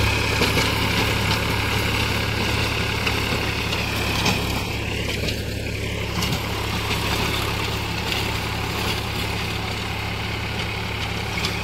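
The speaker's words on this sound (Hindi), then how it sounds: "क्या शानदार आवाज है 245 का, क्या शानदार जुताई कर रहा।" A Massey Ferguson 245 DI tractor pulling a Mahindra Maschio rotavator through a sugarcane-area field, giving a steady, loud, continuous engine drone and churning rumble throughout with no pauses.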